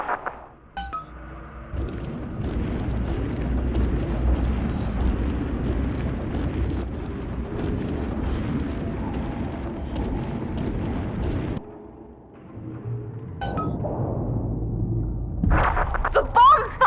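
Bombs going off in BioShock 2: a long, deep rumbling roar of explosions, loud and sustained, breaking off briefly before more blasts, with a voice calling out over it.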